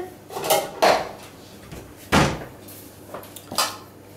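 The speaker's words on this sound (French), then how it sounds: "Je vais prendre une assiette." A plate is taken from a kitchen cupboard while cooking at home, producing several sharp ceramic clinks and clatters with a cupboard knock, spaced irregularly and close to the microphone.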